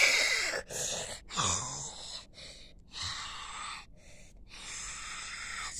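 A creature in a horror video game breathing heavily: close, ragged gasps and wheezing exhales in uneven bursts separated by brief silences, with a raspy, throaty edge.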